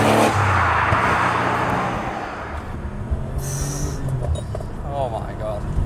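A 1993 RUF BTR2 sports car gets a small blip of throttle, its engine rising into a loud close roar and then easing back to a rumbling drone, with someone talking over it.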